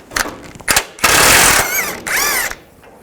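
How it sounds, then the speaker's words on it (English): A wrench and 19mm socket work the control arm nut on a 2005-15 Nissan Xterra, with short bursts of mechanical ratcheting and tool noise, close and loud, followed by two longer sustained whirring bursts. "Use a 22mm wrench on the back of the bolt and a 19mm socket. Take the nut off."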